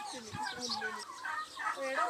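Native farm chickens cluck and chatter in a busy overlapping flock, fairly faint and close together in short repeated calls.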